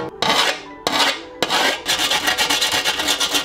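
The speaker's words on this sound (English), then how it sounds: "a file makes super quick work of all these burrs around the edge" Hand file rasping burrs off the edges of metal armor plate, a few separate rough scraping strokes, then a continuous run of quick back-and-forth strokes, close and loud.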